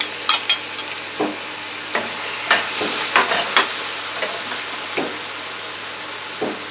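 Broccoli, corn and mushrooms stir-frying in a pan for a bourbon chicken pasta dish, a bright continuous sizzle with frequent sharp stirring knocks and scrapes, close and lively, no voices.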